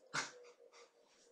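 A neighbour's dog lets out a short high whine or yelp followed by softer, drawn-out wavering cries, faint and somewhat distant, heard alone.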